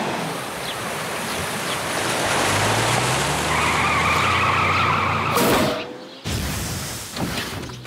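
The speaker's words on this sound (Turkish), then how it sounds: "Aa, teker patlamış." A cartoon bus's tire bursts on the road to an island: a rising engine and rolling-tire roar builds, then ends in a sharp, loud burst, a brief pause and a hissing rush of escaping air.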